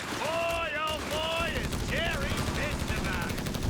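Machine gun fire in a Company of Heroes 3 battle, rapid rattling bursts continuing steadily under whistling and chirping game effects, with no talking.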